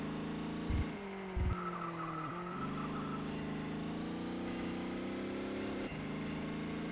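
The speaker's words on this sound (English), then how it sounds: "I got a bit of bodywork rubbing on the tire" Damaged touring car in ToCA World Touring Cars with bodywork catching the tire, a faint scraping hiss riding over a loud, continuous racing engine note with brief low thumps and gear shifts.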